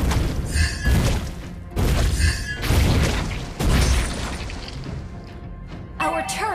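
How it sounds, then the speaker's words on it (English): Mobile Legends turret destruction in battle: several heavy booms and thuds with crashing, shattering debris, loud and close, while a game announcer voice speaks over the effects. "An enemy turret has been destroyed."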